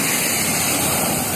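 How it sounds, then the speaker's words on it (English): Ocean waves roll in during Hurricane Erin, a dense continuous roar of surf and rushing water that stays loud and steady from start to end, with no voices. "Got the waves coming in and the sun's popping out."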